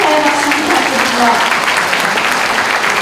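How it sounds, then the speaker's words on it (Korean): An audience at a Busan ceremony marking the 72nd anniversary of the Korean War breaks into dense, steady applause, with many hands clapping continuously at an even loudness throughout. "다섯 분께 다시 한번 축하의 박수 부탁드립니다"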